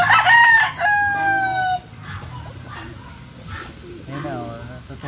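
A rooster crows loudly at the start, a long rising-then-falling call lasting under two seconds, followed by quieter clucking and background chatter.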